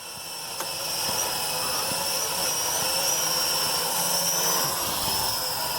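Steady high-pitched rotor whine from a Venom Pro GPS quadcopter drone flying close by in a park, holding a constant buzzing tone with slight pitch drifts.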